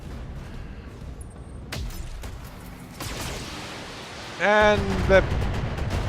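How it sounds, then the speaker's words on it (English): Incoming weapons fire striking a mech in Battletech: a few dull impacts and bursts, then a louder hit with a ringing, tonal alarm-like tone near the end, while a voice speaks briefly. "I'm about to eat another round of fire"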